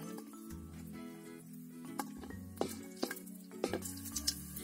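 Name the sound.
garlic added to hot oil, sizzling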